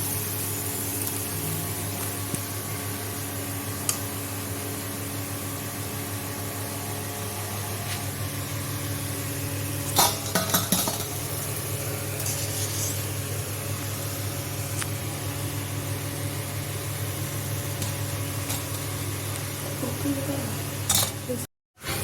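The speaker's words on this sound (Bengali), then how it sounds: "দেখুন কি সুন্দর তালের বড়া আমার ভাজা হচ্ছে" Palm fruit fritters (tal bora) frying in hot oil, giving a steady, close bubbling sizzle throughout with a few brief clinks of a utensil partway through.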